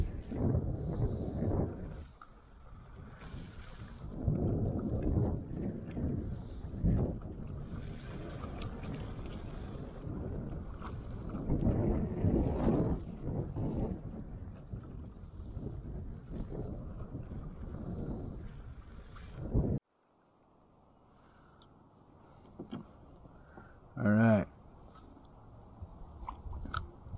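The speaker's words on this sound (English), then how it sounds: "Hopefully that wind will stay." Wind gusting over the Guadalupe River during a crappie fishing outing, a steady rumbling buffet on the microphone through most of the stretch, then dropping abruptly to a calmer hush with a few faint knocks near the end.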